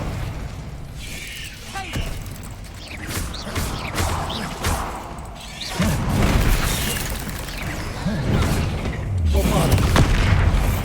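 Fire spells and impacts from the Hogwarts Legacy video game roar and whoosh in a dense, loud stream of bursts, booms and crackles, swelling in intensity toward the end.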